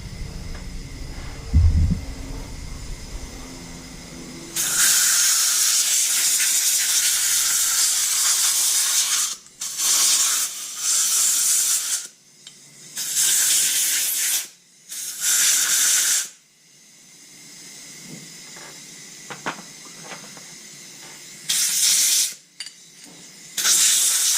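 Compressed air blasts across a Honda CB125E carburetor's components during a rebuild, loud broadband hissing in several separate bursts of varying length with brief quiet gaps between them, no talking.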